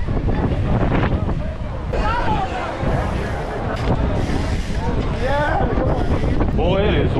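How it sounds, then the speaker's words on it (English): Heavy wind at Newport Beach buffets the microphone with loud low rumbling throughout, while voices talk underneath. "Boy, it is windy over here."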